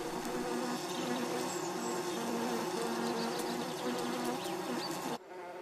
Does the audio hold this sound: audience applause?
no